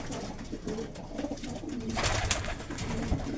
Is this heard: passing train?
no